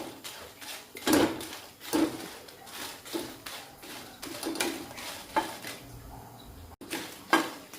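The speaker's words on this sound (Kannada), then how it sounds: "ಇದರಲ್ಲಿ ಇವಾಗ ಮೆಣಸನ್ನು ಫ್ರೈ ಮಾಡೋದು." Long chillies frying in a pan, heard as a series of soft repeated clinks and scrapes of a utensil against the pan at a quiet level, without speech.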